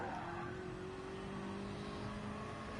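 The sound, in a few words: Jaguar race car engine in a NASCAR racing game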